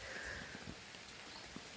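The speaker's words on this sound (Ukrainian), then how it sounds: "Шумить дощик, шумить дощик, шумить дощик." Autumn rain falling on a garden of hydrangeas outdoors, a soft steady hiss with scattered faint patters throughout, quiet and even.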